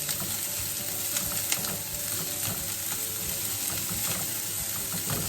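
Chopped onion sizzles steadily in a pan with a little leftover oil for a plantain stir fry, a continuous near frying crackle with faint stirring and no talk.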